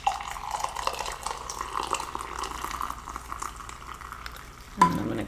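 Hot water just off the boil pours steadily into a cup in a home kitchen, a continuous close trickling wash that ends in a brief clink near the finish.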